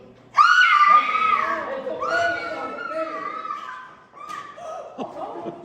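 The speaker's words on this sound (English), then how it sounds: "I had to stop her screaming." A woman screams loudly in a murder-mystery stage play, a sustained high shriek that trails into strained, wavering cries, with other voices overlapping afterward.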